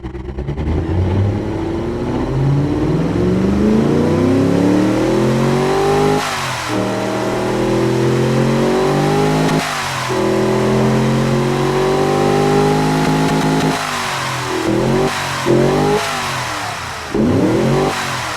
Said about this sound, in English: Very loud intake and very quiet exhaust.